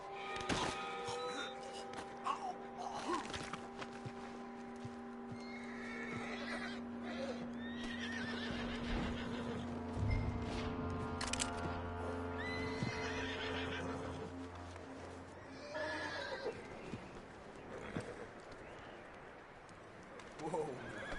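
A horse in Red Dead Redemption 2 neighs and whinnies with clip-clopping hooves, mixed under game music and speaking voices, fairly quiet overall.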